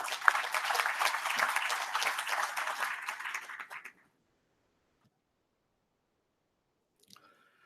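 Audience applause welcoming a minister at a carbon-markets ministerial event, steady clapping from a crowd for about four seconds before cutting off to silence.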